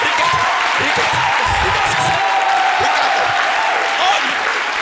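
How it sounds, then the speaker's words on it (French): An audience applauds at a religious gathering, steady sustained clapping filling the room, with voices talking over the top and a brief burst of louder cheering partway through. "On applaudit pour Dieu, s'il vous plaît."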